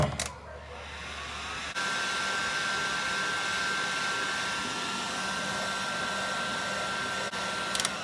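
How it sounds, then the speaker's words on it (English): A heat gun blows loudly and steadily, a constant close whooshing roar as it shrinks a large piece of heat shrink tubing over a bayonet connector during an electric fuel pump install on an Opel GT. "Take my heat gun"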